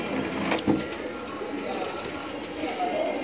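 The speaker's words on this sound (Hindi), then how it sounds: "ये सफ़ेद कबूतरों का लॉट है भाई।" White pigeons in a loft coo softly in a steady, continuous murmur, with a brief bump of wing or movement noise partway through.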